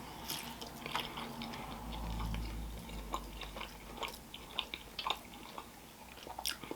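Close, wet chewing of thick-cut honey ham at an Easter feast, with soft bites and squishy mouth sounds at a moderate level and no talking.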